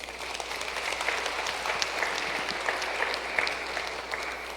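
An audience at a Lenten recollection applauds in a steady, dense patter of claps at moderate volume, sustained for several seconds without a break.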